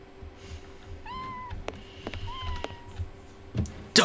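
A cat in the Sherlock Holmes versus Jack the Ripper video game meows twice in clear, drawn-out rising calls, close and alone, with light clicks and a game ambience behind.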